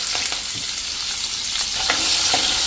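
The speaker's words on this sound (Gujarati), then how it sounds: "મરચાંને તેલમાં ચલાવી લેશું એટલે સરસ થોડાક કૂક થઈ જાય" Green chillies fry in hot oil for a Gujarati cabbage sambharo, giving a loud, dense, continuous sizzle with faint stirring taps throughout and no voices.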